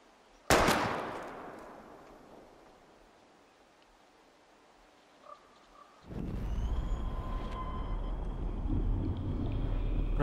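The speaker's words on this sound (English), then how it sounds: "We're gonna shoot all these bottles without wasting a single bullet." A single sharp gunshot aimed at bottles in Life is Strange rings out loud and close, then fades into a long decaying tail before steady ambient noise with faint tones rises.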